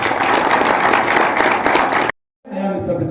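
Audience applause at a political gathering in Pushkar, loud sustained clapping that cuts off abruptly, then a brief burst of crowd noise returns after a short silence.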